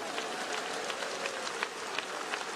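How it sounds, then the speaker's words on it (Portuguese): A church congregation claps together in a dense, steady patter of many hands, fairly distant and even, with a few sharper accents standing out. "Desocupem as mãos, batam palmas, glorifiquem ao Senhor"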